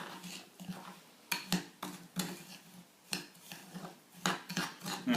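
A spoon or spatula works a dry homemade body scrub around a bowl, giving close, irregular scrapes and light clinks in short bursts with brief pauses.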